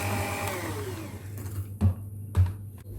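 An electric mixer whirs through cake batter for mabroushe, a steady motor hum with two brief louder surges as the beaters dig in.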